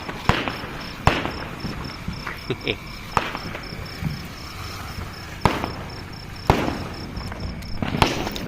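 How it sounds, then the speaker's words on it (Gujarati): Marki bomb firecrackers bursting during Diwali, with several sharp loud bangs spread across the stretch, an insect-like steady whine in the background and faint voices between blasts. "આ છે મિત્રો મરકી બોમ્બ."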